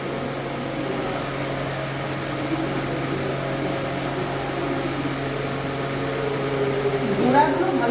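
Eggplant and tomato roast over an open flame, giving a steady, close, low roaring hum that holds throughout, with people talking over it.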